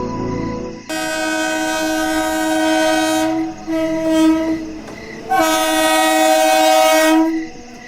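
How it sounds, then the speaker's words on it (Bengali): An animated train sounds its horn at a station: two long, loud tonal blasts, the first running about two seconds and the second a bit shorter after a brief pause, over a low rumble. "অবশেষে ট্রেনের হর্ন শোনা গেল"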